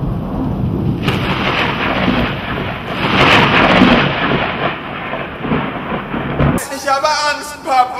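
Stormy night with thunder and rain, a loud churning wash of wind and downpour with a rumbling swell in the middle, cutting abruptly to a different brighter sound near the end.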